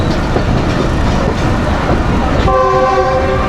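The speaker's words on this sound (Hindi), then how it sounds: "और ट्रेन अप्रोच कर रही है जी पेशावर शहर रेलवे स्टेशन पे, पेशावर सिटी।" The Khushhal Khan Khatak Express rolls into Peshawar City railway station, a loud continuous rumble of the train with a steady horn-like tone sounding near the end.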